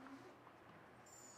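A dog whimpers softly during a frisbee training session, a brief, thin whine close by against a low background hum, ending with a sharper yip.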